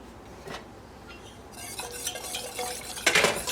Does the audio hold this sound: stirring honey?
yes